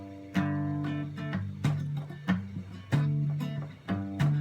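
Electric guitar in E standard tuning plays a part alternating a low bass note with higher plucked notes in a steady, syncopated rhythm, strings muted between strikes, close and clear with no talking.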